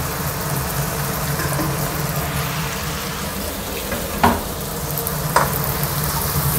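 Onions and softened tomato being stirred in a frying pan, a steady close sizzle with two brief scraping knocks of the utensil against the pan.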